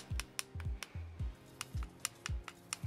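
Fingertips tapping on hardened, finished acrylic nails give crisp, sharp clicks in quick irregular bursts, roughly a dozen close taps with soft low thuds beneath.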